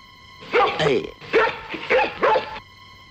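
A human voice imitates a dog barking in a Kannada comedy scene, giving four loud, close, evenly spaced 'bow-wow' bursts.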